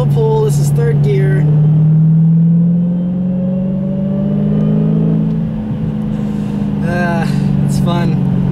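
A manual 2016 Dodge Challenger Hellcat pulls hard in third gear on wet, rainy roads, its loud engine note climbing steadily and staying up front, with brief fragments of a voice.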